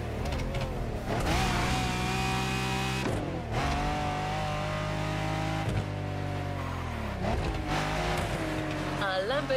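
Lamborghini Diablo engine in the racing video game The Crew Motorfest, roaring loudly and steadily as it revs up through several gear changes, with the pitch climbing and dropping back repeatedly.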